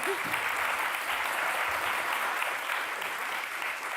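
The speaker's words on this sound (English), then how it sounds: "You can give an applause." An audience at a graphic design talk applauds as two guests from the Syrian Design Archive come on stage, a steady, fairly soft round of clapping lasting the full four seconds with no break.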